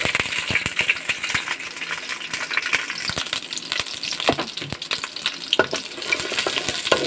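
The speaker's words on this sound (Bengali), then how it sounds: "পেঁয়াজ আর কাঁচামরিচ আমি হালকাভাবে ভেজে নিব।" Onion and green chili frying in hot oil, a close crackling sizzle dense with sharp pops and spatters, stirred with frequent metallic scrapes and clinks of a spoon against the pan.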